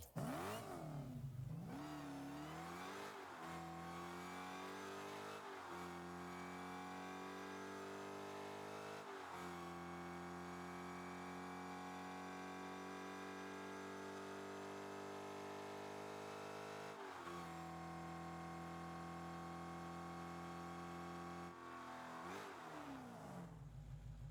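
A Rocket League car engine, the Fast X Dodge Charger, drones steadily with a buzzy, harmonic tone, its pitch rising and dropping through several rev changes, loud and continuous.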